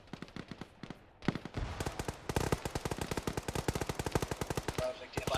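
Sustained automatic machine gun fire in a military video game, with rapid evenly spaced bursts that start sporadic and then build into a long, loud, continuous string of shots.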